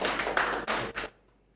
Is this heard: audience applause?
yes